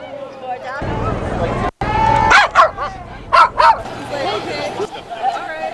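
Dogs at a Pet Fest let out several sharp barks and yips in quick bursts, close by, over a busy background of people talking.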